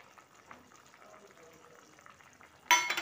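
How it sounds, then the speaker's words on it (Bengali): Chicken curry with soy sauce and tomato sauce is stirred in a pan, faint and low at first, then a sudden louder sizzling scrape near the end. "খুব ভালোভাবে নেড়ে নিলাম।"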